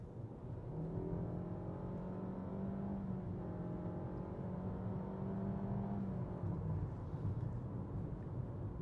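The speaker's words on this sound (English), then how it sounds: "here you can hear the engine most of the time" Inside a 2021 Nissan Rogue Platinum driving in sport mode, the engine makes a low, steady drone with faint rising tones as it pulls, all heard as muffled cabin noise with no talking.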